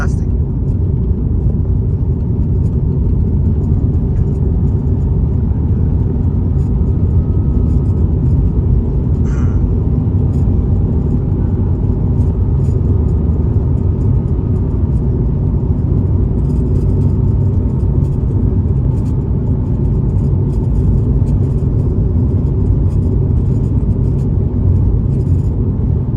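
Steady, loud road rumble and engine drone from a car driving along a highway under construction between Corozal and Sarteneja, continuous without break.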